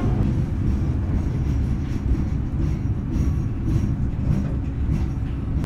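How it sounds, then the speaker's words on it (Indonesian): Pandalungan passenger train braking on the approach to Pasuruan station, a dense, continuous low rumble of wheels on rail with faint high squeal, steady and loud from inside the carriage, no talking. "Oke, ini kereta sudah mulai ngerem, persiapan berhenti stasiun Pasuruan."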